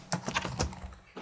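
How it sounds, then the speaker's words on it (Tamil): Computer keyboard typing: a quick run of light, crisp key clicks at an uneven rhythm, close and fairly quiet, with no voices. "அதை பற்றி ஏதாவது ஒரு கண்டென்ட்டை இங்கே ஏதோ வந்து டைப் பண்ணுறோம்."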